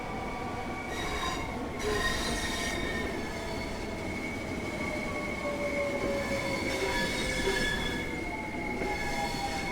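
A Class 465 Southeastern train in the video game Train Sim World 2 rolls along with loud, sustained wheel squeal and metallic screeching tones, steady rumbling underneath as it gradually slows.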